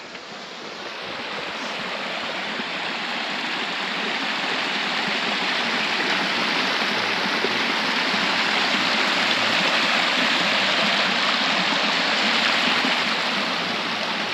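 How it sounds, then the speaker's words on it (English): Steady broadband rush of river water flowing during a river crossing on foot on Portugal's Rota Vicentina trail, loud and continuous after a quiet first second, with no voices. "First river crossing of the day, wet feet before we even start."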